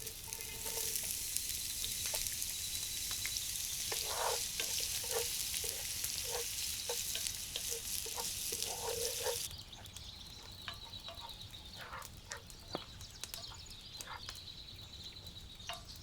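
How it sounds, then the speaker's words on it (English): Onion sears in oil in a hot cast iron pan, a steady bright sizzle with occasional scraping stirs; partway through the sizzle drops noticeably quieter while the clinks continue, and no one talks. "in a hot cast iron pan, we add some oil and we sear the onion"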